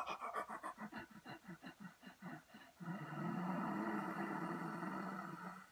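Rapid rhythmic panting breaths, close and raspy, followed by a long, rough, snore-like throaty inhalation during a breathing exercise.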